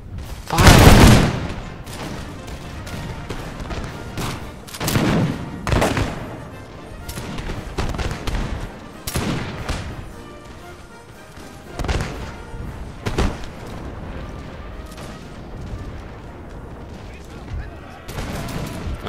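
Musket volleys crack out in the Napoleon Total War battle game, a dense crackling fusillade at the start and several more bursts through the middle, with thuds and battle din between and voices shouting orders.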